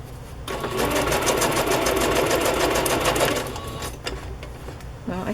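Sewing machine running a straight stitch on chiffon ruffles, a fast steady mechanical whirring close up for about three seconds, then slowing and stopping with a few clicks.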